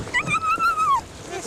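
A dog on a Palau beach lets out a single drawn-out, high whimpering whine that slides downward and fades after about a second, fairly close against a soft background.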